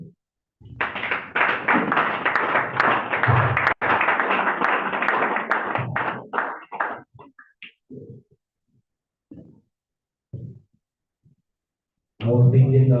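Audience at an infrastructure seminar in Abuja bursts into loud, sustained applause for several seconds, then scattered claps and murmurs fade out before a voice speaks at the end.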